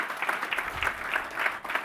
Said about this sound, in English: Let's give a huge round of applause to all